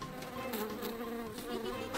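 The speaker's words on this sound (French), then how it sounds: "Scout pense qu'il devrait y avoir une abeille sympathique dans l'histoire." A cartoon bee buzzes steadily and fairly loudly, a dense, continuous drone that runs without pause and with no voices over it.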